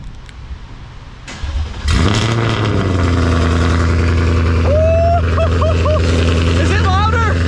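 After a quiet moment, a 2024 Mustang GT engine with valved active exhaust, X-pipe and long tube headers cranks and roars to life nearby, then settles into a loud, throaty idle while a voice talks over it.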